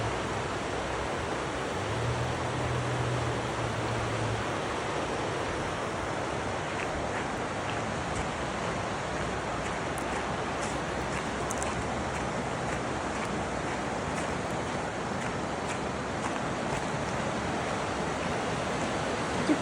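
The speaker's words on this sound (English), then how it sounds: "It's a pretty nice little river." A small river flows steadily nearby, a constant broad rushing wash of water with a faint low rumble and possible wind, unbroken for the whole stretch with no voices.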